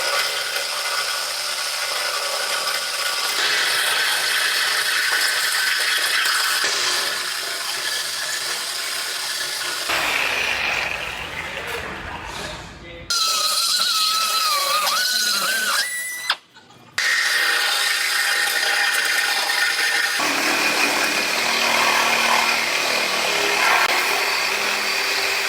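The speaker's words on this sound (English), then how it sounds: "So I'm gonna go ahead and I'm gonna cut this frame right here on both sides" A power saw cuts through a Ford F-150 truck frame in a body shop, a loud sustained grinding, screeching cut with brief pauses and shifts in pitch, close up, with no talking.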